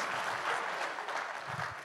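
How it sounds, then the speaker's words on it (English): Steady applause from a crowd, a continuous wash of clapping that holds at an even level throughout. "let's give James a hand clap."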